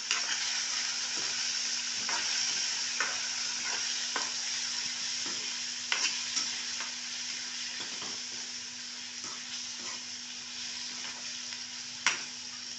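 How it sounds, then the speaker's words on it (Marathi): Tomatoes sautéed in a pan on the gas, a steady sizzling hiss with soft scraping stirs now and then and a sharper clink near the end, close and continuous with no talking. "आता गॅस म्हणजे बारीक करून टोमॅटो चांगला दोन मिनटं परतून देते"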